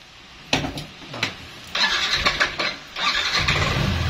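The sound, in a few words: motor scooter engine starting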